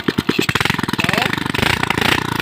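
A motorcycle running without an exhaust muffler, loud and close, with a few slow pops before it settles into a rapid, harsh, rattling beat, and a voice speaking briefly over it.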